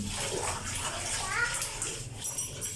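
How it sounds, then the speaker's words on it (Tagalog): Water running and splashing while a cat is bathed for the first time, a steady hissing stream close by with people talking over it. "paliguan ko muna yung aking muning."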